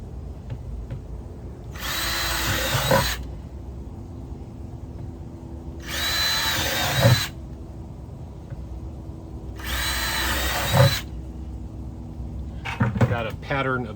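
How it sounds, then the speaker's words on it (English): A power drill bores holes through a thin plastic 5 gallon bucket in three loud, close whirring bursts of about a second each, separated by quieter pauses, with someone speaking near the end. "You see how fast I just drilled through there"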